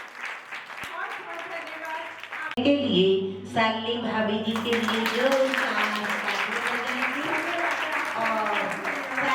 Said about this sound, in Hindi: उसके लिए एक बार जोरदार तालियां